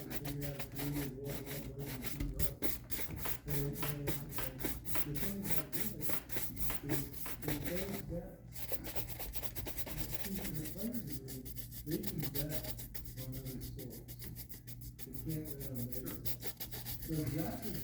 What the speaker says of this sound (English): Make sure you change your directions when you brush